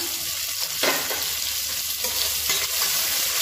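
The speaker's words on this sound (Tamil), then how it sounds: "இதோட மீடியம் சைஸாக ஒரு பெரிய வெங்காயம் நீளமாக நறுக்குனதை சேர்த்து வதக்கிக்கலாம்." Sliced onion and green chilies sauté in hot oil for a chicken gravy, a steady loud sizzle with occasional stirring scrapes of a spoon in the pan.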